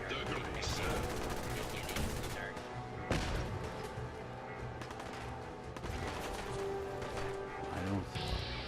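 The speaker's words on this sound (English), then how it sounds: "Soldier, man the cannons." Ship cannons on the U.S.S. Constitution fire in the video game Fallout 4, a loud burst of heavy booms and rapid gunfire with crashes and rumbling, dense and continuous, with voices underneath.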